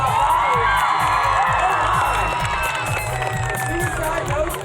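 A crowd cheering and shouting for BMX rider Rob Nolli at a live stunt show, loud and continuous, with a voice talking over the noise.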